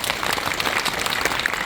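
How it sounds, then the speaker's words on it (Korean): A brief burst of dense clapping from a movie screening audience at a Q&A for the film Harbin, lively and even throughout. "박수 한번 보내주세요."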